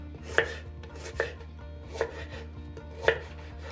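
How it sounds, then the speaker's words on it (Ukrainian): A knife chops garden-grown celery into pieces on a board, four crisp, evenly spaced cuts ringing out close and clear with no talk. "я салеру розріжу на три частини і буду різати такими кусочками"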